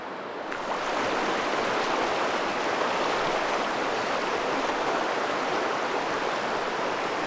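A wilderness river rushes steadily past on a chilly morning, a broad continuous close-up wash of flowing water that swells in after a brief quiet start.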